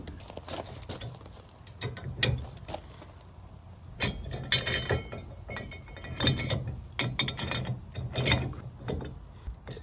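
Metal clanks, rattles and ratcheting clicks come from adjusting a Haul Master 8-in-1 adjustable hitch mount, with irregular bursts of steel-on-steel clinking close to the microphone and brief quiet gaps between.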